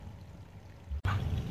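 Water pours from an automatic waterer for rabbits and chickens, a soft trickle that cuts off abruptly for an instant, then returns fuller and louder with a low gurgle.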